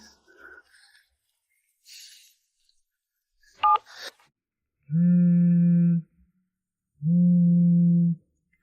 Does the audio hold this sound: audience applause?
no